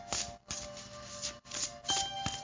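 A deck of oracle cards being shuffled by hand, a few quiet riffling bursts with short pauses between them, close and soft.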